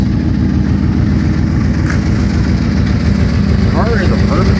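A Ford Thunderbird's engine idling steadily close by, a low rumbling throb throughout, with a faint voice briefly over it.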